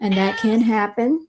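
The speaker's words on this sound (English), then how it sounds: "Excuse my cat, y'all, don't know what's wrong with her." A house cat meows repeatedly indoors, three drawn-out tonal calls in close succession, loud and near, overlapping a person's speech.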